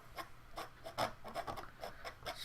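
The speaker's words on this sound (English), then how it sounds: "just scraping it across like that" A palette knife scrapes paint across canvas in a run of short, dry, rasping strokes, fairly quiet and close, with no talk over them.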